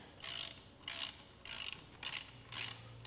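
Ratcheting clicks from a wrench snugging a bolt on a power steering pump during an LS engine swap into a Nissan Patrol, coming in five short regular bursts, close and clear with no talk.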